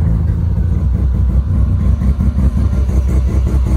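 Rotary-engined Holden Kingswood running steadily in a garage, a loud close idle with a busy, even pulsing note and no talk over it.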